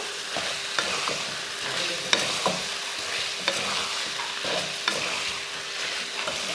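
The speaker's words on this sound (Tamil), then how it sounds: "சிக்கன் சேர்த்துட்டு நல்லா கலந்துருவோம்." Chicken sizzles steadily in a hot pan while a spoon stirs it for a Tamil coconut milk chicken fry, with occasional sharp scraping clinks against the metal.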